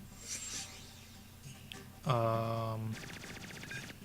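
Rapid electronic machine-gun fire from the side-scrolling shoot-'em-up game PixelJunk SideScroller, a quick run of pulsing shots in the last second, after synthetic tones and game effects.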